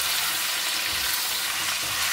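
Chicken pieces sauté in a pan for chicken tinola, searing to draw out the blood, giving a steady, close, loud hiss of frying without pause or voices.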